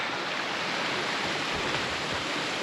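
Small tributary waterfall on the Cape Dauphin Falls trail, a steady broadband rush of falling water heard close and alone, even and continuous throughout.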